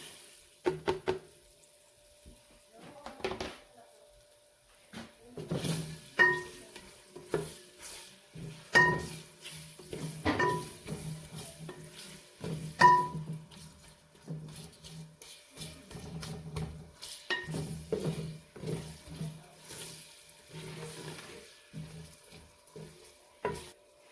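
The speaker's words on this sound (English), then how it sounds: "I'm gonna saute them for about 3 to 5 minutes until they are translucent." Onions sautéing in a pan while spinach is being cooked, with repeated stirring scrapes and a low background sizzle in uneven bursts, fairly quiet and close with no talking.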